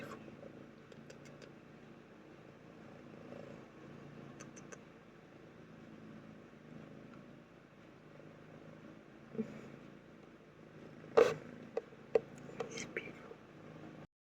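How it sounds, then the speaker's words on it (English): A pet cat purring softly in a quiet room, a low steady rumble running under faint murmuring, with a few brief sharper chirps and coos near the end. "she does the most beautiful purring and cooing sound"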